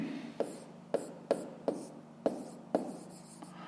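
Numbers written by hand with a pen on paper, a close scratchy stroke sound punctuated by regular light taps as each digit is finished, about eight in a row.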